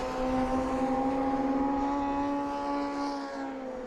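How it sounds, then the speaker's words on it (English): MG Cup race cars at Brands Hatch circuit, engines droning loud and steady as several cars hold a close battle and stream past together, with no talk over them. "There goes Ian Bolton in the white car, just behind Wigley."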